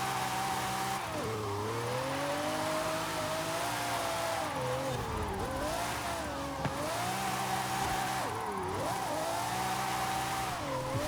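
Drift car in a racing video game sliding through corners, engine revving and dipping in sweeping pitch swings with tire noise, loud and continuous, no voices.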